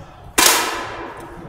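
A single 10 m air rifle shot fired during a women's shooting competition, heard as one sharp, loud crack followed by a metallic ringing decay.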